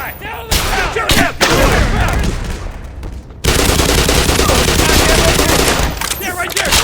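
Gunfire in a video game hazard course: loud, dense automatic bursts sustained for several seconds, briefly pausing before another heavy rattling stretch, with shouted voices mixed in.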